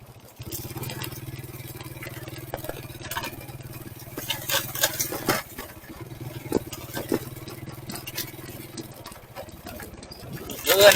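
A motorcycle engine runs steadily as a low, continuous hum for most of the clip, with clattering and voices talking over it.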